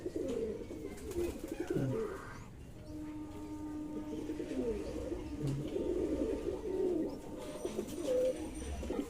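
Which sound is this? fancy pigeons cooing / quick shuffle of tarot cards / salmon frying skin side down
fancy pigeons cooing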